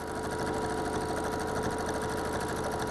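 Steady, close mechanical whirr of a sewing machine stitching free-motion quilting, running continuously at an even speed with no talk.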